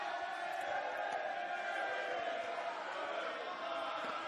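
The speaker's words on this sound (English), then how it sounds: "The crowd is getting very involved now too." A crowd at a Queensland versus Northern All Stars men's final match roars in a steady, dense wash of cheering and shouting, loud and sustained throughout with no individual voices standing out.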